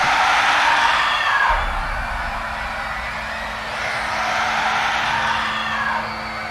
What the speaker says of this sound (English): Deadly ear-piercing screams, so bad that my ears started to bleed.